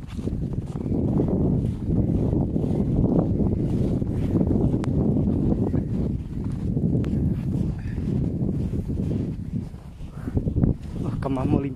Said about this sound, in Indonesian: Lagi kuat hujan, angin lagi kuat.